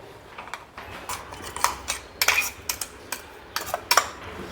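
A spoon scrapes and taps irregularly in a pot while boiled potatoes and sago are stirred together, giving soft clinks and scrapes close by with quiet pauses between them.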